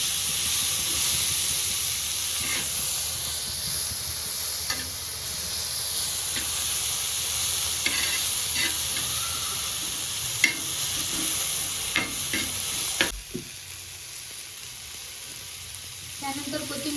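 Crushed green chilli and garlic paste sizzles steadily in a hot pan over tomatoes for thecha, with scraping stir strokes and clicks of a spoon against the pan, close and continuous.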